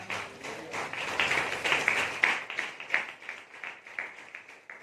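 A church congregation at a Sunday service claps in praise, producing a run of rhythmic, moderately loud hand claps that swell in the middle and fade slightly toward the end.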